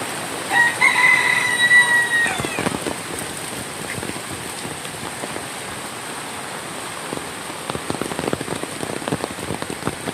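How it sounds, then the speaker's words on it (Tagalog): Heavy typhoon rain pours steadily on surfaces near a port, a dense continuous hiss, with a brief passing whine from a vehicle or machine in the first few seconds. "Ulan."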